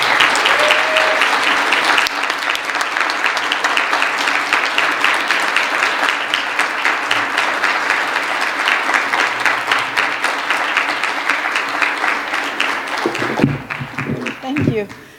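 A keynote audience breaks into sustained, loud applause to welcome a speaker, the dense clapping holding steady for about thirteen seconds before tapering off as a voice begins speaking.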